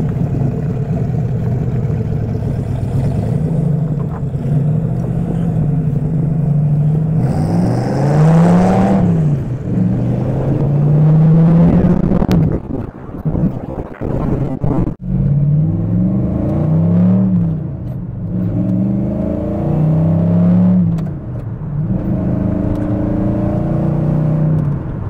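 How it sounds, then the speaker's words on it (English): A V8-swapped Pontiac Fiero drives down the road, its engine droning steadily and rising in pitch through repeated acceleration pulls, loud and close throughout with no talking. "Now we want to take it down the road."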